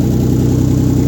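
A 1997 VR4 engine, freshly rebuilt and running with no downpipe fitted, gives a loud, raw, steady low-pitched idle with a fast even pulsing exhaust beat, close up.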